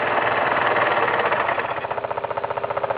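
A small model steam engine runs close by with a steady, fast rhythmic chugging that grows more pulsing toward the end.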